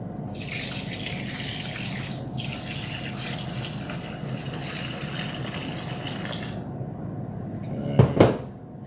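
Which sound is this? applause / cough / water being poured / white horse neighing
water being poured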